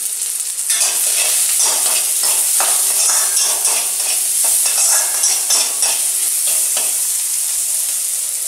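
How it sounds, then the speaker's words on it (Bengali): Onion and garlic fry in a pan with a loud, constant sizzle, broken by repeated scraping and stirring strokes of a utensil throughout, with no talking. "পেঁয়াজ রসুনটা ভালোভাবে ভাজা হয়ে গেছে"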